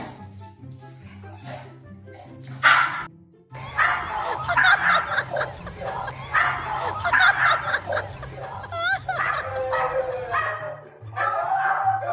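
A small dog held in its owner's arms barks and yips fiercely in sharp close bursts with whimpers between, over background music and some human voices.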